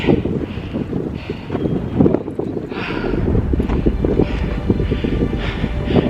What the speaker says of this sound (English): I'm sure it's really windy.